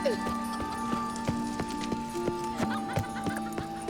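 A horse gallops in The Witcher 3 video game, its hooves making a steady, rapid clip-clop rhythm close by, layered over sustained game music tones.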